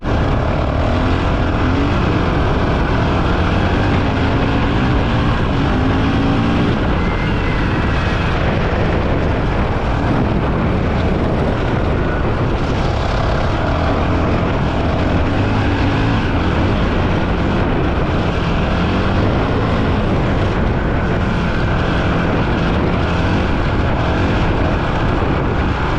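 Honda CRF450RL dirt bike ripping along an off-road trail, engine roaring loud and continuous with surging throttle and heavy wind rush close to the rider throughout.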